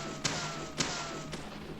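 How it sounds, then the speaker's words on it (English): Three soft, muffled pistol shots are fired point-blank into a wall in Deadly Premonition. They land at roughly even intervals over a steady background hum and sound surprisingly quiet. "I'm shooting to the wall, by the way."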